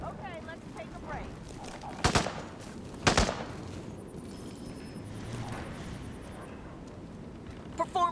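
Gunfire from the Hitman video game: two loud, sharp bursts of shots a second apart, then a quieter stretch with a few faint pops and a brief burst at the end, over a steady game ambience.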